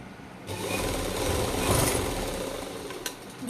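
A sewing machine stitches piping along a garment's neckline in a tailoring shop, running in one steady continuous whir close up with no talking.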